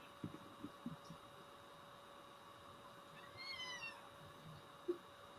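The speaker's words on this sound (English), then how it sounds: "Oh, I heard it meow meow." A house cat named Witch Hazel gives a single soft, drawn-out meow partway through, faint and a little distant over a quiet room hum, with a few light knocks before it.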